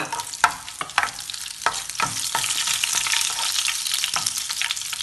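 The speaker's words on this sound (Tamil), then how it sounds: "எண்ணெய் வந்து சட்டியில் சூடறிட்டுது. இப்போ நான் கடுகை போடுறேன். அதை போட்டு செத்தலை போடுறேன்." Mustard seeds and dried red chillies hit hot oil in a pan for lemon rice, giving steady close sizzling with sharp popping crackles and a few stirring scrapes.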